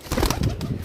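Local desi pigeons coo softly in a brief, close burst, with some rustling and movement.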